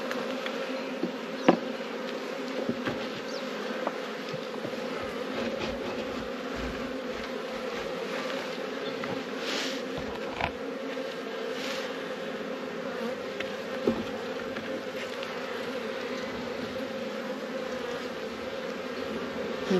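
Honey bees in a hive of drones and pollen-packed cells, a dense steady buzzing hum close by that holds throughout, with faint handling clicks and no talk.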